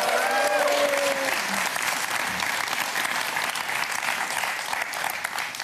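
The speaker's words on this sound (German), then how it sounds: "einen großen Applaus für Marisa" A studio audience on a German TV cooking show applauds Marisa with sustained, dense clapping that stays fairly even for several seconds after a short musical sting.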